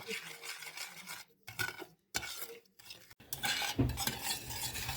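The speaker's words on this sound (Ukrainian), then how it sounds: "Непреривно треба помішувати, щоб цукор не пригорів." A spoon scrapes and stirs steadily through sugar syrup of sugar and water in a pot on the stove, with metallic clinks against the pot and a soft sizzle of boiling, close and moderately quiet, in uneven bursts.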